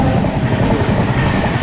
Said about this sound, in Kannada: ಅಲ್ಲೊಂದು ಟ್ರೈನ್ ಬರ್ತಿದೆ ನೋಡಿ